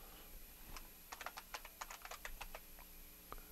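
Keys clatter on a computer keyboard as a project name is typed in Eclipse on Ubuntu: a quick run of about a dozen light, close taps in a quiet room, ending with one firmer keystroke.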